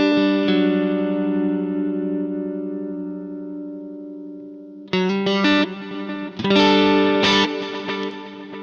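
An electric guitar on a clean preset through a pedalboard rings out a sustained chord that slowly decays, then a few more plucked notes and chords follow with a shimmering, reverberant tone, and no speech is heard.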